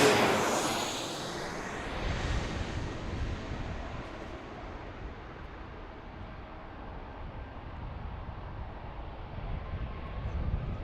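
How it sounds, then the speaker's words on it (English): A jet airliner passes low overhead at Reagan National Airport in Washington, DC, loud at first and then fading into a broad, steady roar that lingers in the distance. "Feel that jet blast"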